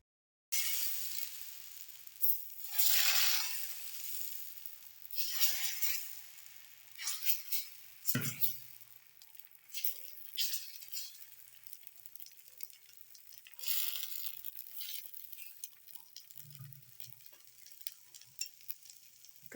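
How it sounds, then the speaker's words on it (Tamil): Pearl millet dosa batter, seasoned with cumin, coriander and curry leaves, spreading on a hot pan, giving a soft continuous sizzle that swells and fades with occasional scraping, fairly quiet throughout with no talking. "நம்ம தோசை போட்டு பார்க்கலாம் இப்போது"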